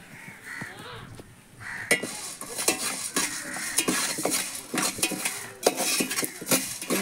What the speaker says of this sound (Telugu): మెంతులు వేగించుకుంటున్నాము.